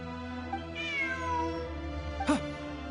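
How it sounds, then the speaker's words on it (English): A cat in the game Genshin Impact gives a drawn-out, wavering meow followed by a sharper short mew, close and clear over a steady musical background drone. "Look! A cat!"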